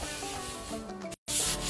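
Steady abrasive rubbing of sandpaper scraping rust off a metal chair base, close and continuous, with a brief pause before the strokes resume.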